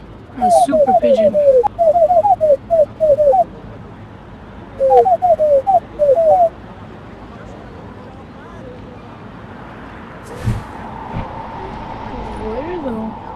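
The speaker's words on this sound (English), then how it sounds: "A super pigeon." A cartoonish pigeon in a VR flying game gives two quick bursts of repeated chirpy cooing calls, loud and close, followed by a quieter stretch of low ambient hum with a faint tone; no speech.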